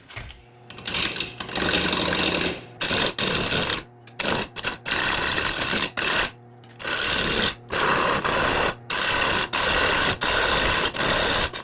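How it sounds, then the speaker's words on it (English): A lathe turning down an oversized workpiece, 18 inches on a machine rated for 12, makes a loud, steady mechanical whirring chatter in long bursts, broken by several abrupt short gaps. "I don't want to take a chance on bending my lathe spindle or breaking the part, so I think I'm just going to turn that away."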